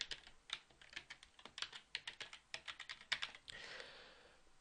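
Fingers type a user ID and password on a computer keyboard, a quick irregular run of close, crisp key clicks, ending with a softer rustle.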